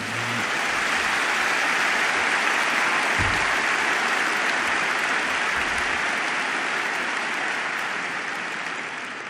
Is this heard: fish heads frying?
no